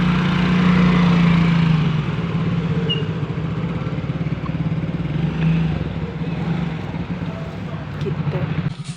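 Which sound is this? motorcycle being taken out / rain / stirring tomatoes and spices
motorcycle being taken out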